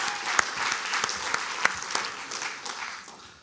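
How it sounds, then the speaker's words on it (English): An audience claps for a volunteer brought up on stage, a steady round of applause with sharp individual claps standing out, slowly tapering off toward the end. "Okay, round of applause for that guy there."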